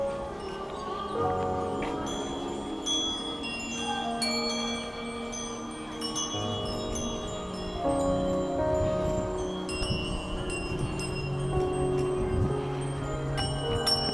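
Bright metallic tinkling from wind chimes hanging at the Royal Pavilion, Rajapruek Park, Chiang Mai, clusters of overlapping ringing tones rising and fading over a steady outdoor background.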